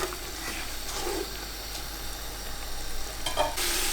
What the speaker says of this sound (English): Mix everything up, fry everything in.